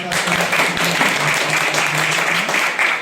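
An audience applauds at a lamp-lighting ceremony opening a Constitution Day event, a continuous loud, close wash of clapping with a faint voice and a steady tone underneath.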